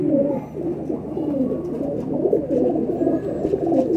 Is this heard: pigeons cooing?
yes